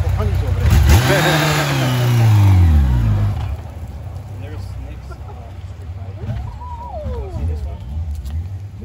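A 2005 Yamaha FJR1300 sport touring motorcycle rides past in Winter Park, Florida, its engine note swelling loud and then dropping in pitch as it passes, fading into background traffic while people talk nearby.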